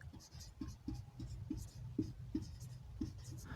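Marker or chalk writing a chemical name on a board in a classroom, a quiet, steady scratching with regular short strokes, faint and close, with no talking.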